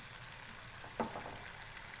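Whole green chillies fry in hot masala for a dal tadka with a faint, steady sizzle, and one soft stirring clink partway through.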